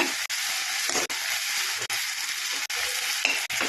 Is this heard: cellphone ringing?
no